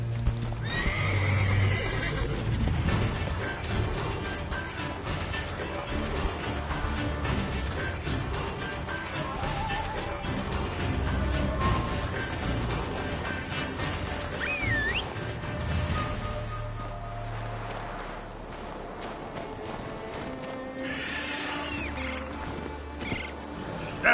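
Roach, Geralt's horse in The Witcher 3, whinnies loudly while her hooves clop steadily beneath, a close, continuous mix of neighs and hoofbeats with no talking.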